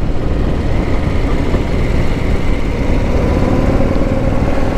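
A 2021 Harley-Davidson Street Glide Special motorcycle engine runs close by with a loud, continuous, even rumble and no pauses.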